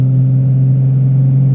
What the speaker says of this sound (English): there's something to be said about a loud, fun truck